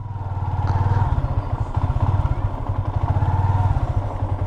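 A motorcycle engine runs close by near a hot spring, a loud steady throbbing idle with rapid regular pulses and a faint clattery mechanical edge throughout.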